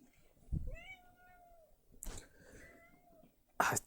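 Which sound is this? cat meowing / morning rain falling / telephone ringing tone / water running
cat meowing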